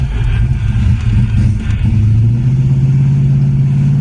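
A 1982 Ford LTD's engine revs loud and close, settling into a steady droning hum with a slight rise in pitch as the automatic transmission downshifts, no voices over it.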